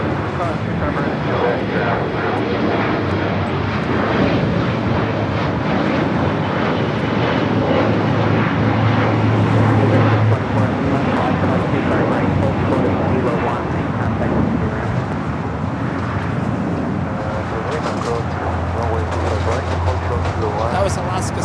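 An Alaska SkyWest Embraer E175 jet departing LAX, its engine roar loud and sustained throughout, with a deep rumble and hiss and a voice speaking over it.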